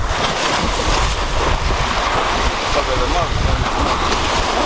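Heavy surf washes steadily over a Thai beach, with a continuous broad rush of water and wind buffeting the microphone, and a person speaking briefly over it.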